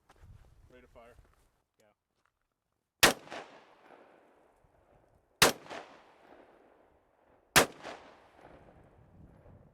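A suppressed short-barrel AR-15 rifle fires three sharp, loud reports about two seconds apart, each followed by a brief ringing decay, after a moment of quiet talk.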